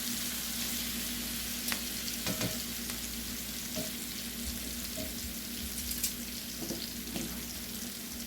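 Onion rings from a carnival fair street food stall sizzle steadily in hot oil, close and constant, with a few faint clicks and no talking.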